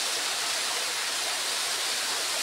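Busay Falls in Lugait, Misamis Oriental, pouring steadily: a dense, unbroken hiss of falling water at moderate level, even and constant throughout with no voices.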